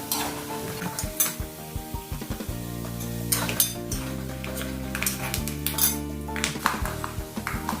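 Peanuts fry with garlic in a pan, crackling and sizzling close up as a utensil stirs and clinks against the metal, over a steady low background hum.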